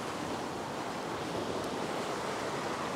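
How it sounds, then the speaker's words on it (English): A small ocean wave washes over coastal rocks at a fishing spot, a broad steady rush of surf and spray heard close and moderately loud, with no voices. "Oh, here comes a little wave"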